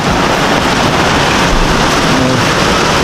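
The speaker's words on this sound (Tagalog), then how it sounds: "ayan yung ulan, nagsimula na." Heavy rain pours down as a typhoon begins, a loud dense continuous hiss of water striking surfaces close by, steady and unbroken with no talk.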